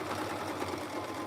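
A Singer sewing machine runs in a continuous, even mechanical whir with a fine rapid stitching rhythm, moderately quiet and steady throughout, with no talking.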